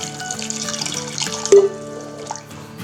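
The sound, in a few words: water poured into pot of lentils and carrots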